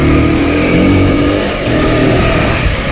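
An Aprilia 125 RX motorcycle riding along on a test ride, its engine close and loud in a continuous droning roar with a brief dip midway and no talking over it.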